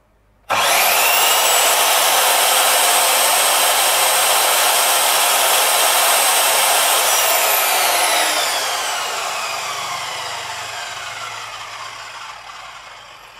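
A Ronix 210 mm (8 in) miter saw motor spins up sharply to a loud, steady high-pitched whine during a bench test, holds for several seconds, then winds down with a falling pitch as it coasts to a stop.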